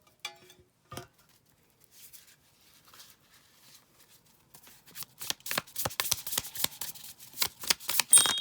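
Shaman oracle cards being shuffled close up, starting with a few isolated taps and soft rustles, then building into rapid, dense riffling flutters toward the end.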